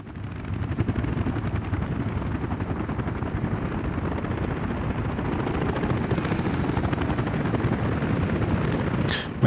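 Helicopter rotor in the Soviet-era city-building game Workers & Resources: Soviet Republic, a steady, loud, continuous thudding whir that holds throughout without a break and ends with a brief higher clatter.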